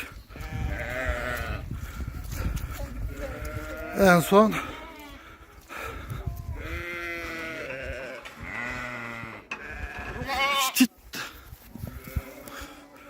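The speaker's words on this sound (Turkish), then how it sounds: "Koyunlarla kuzular tamamen ayrıldı." A flock of sheep and lambs bleats repeatedly at close range, overlapping cries rising and falling with shouts and speech running throughout.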